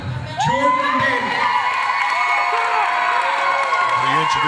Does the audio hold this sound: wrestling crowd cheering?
yes